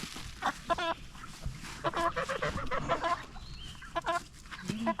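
Several chickens cluck and squawk in repeated bursts, fairly close, with overlapping calls and some scratching noise underneath.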